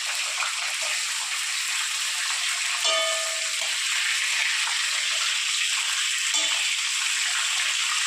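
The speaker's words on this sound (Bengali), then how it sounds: "এবার ওই পিঠটা আমি ভালো করে লাল করে ভেজে নেব" Fish pieces frying on their second side in hot oil, a continuous dense sizzle and crackle, close and steady, with a few brief utensil clinks and no talking.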